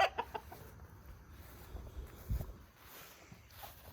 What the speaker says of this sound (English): They're my laying hens.